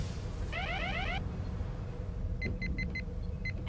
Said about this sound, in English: No, what's that alarm now?